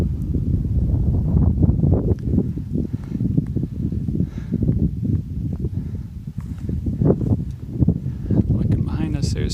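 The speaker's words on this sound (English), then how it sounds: "Some nice cooling wind" Cooling wind on the Hamilton Mountain trail, a steady loud low rumble of wind buffeting the microphone throughout, with faint rustling and no clear speech.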